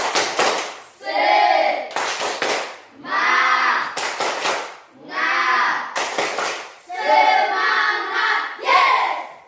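A group does a rhythmic tepuk semangat spirit routine: bursts of sharp clapping alternate with chanted voices in a steady repeating pattern, close and lively.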